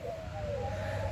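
Lovebirds give a short, clear whistled call in answer to a person imitating bird noises, a single drawn-out tone over low background hum.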